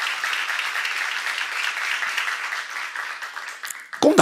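An audience at a church seminar claps together in sustained applause, a dense, steady patter that tapers slightly before a louder burst at the end.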